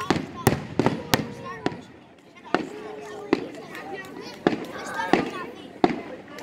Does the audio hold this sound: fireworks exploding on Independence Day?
yes